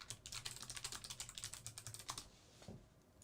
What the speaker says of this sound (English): Hold on, I was typing.